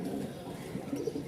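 Small pigeons of a high-flying tumbler breed cooing softly in a loft, a brief low murmuring burble, close but faint.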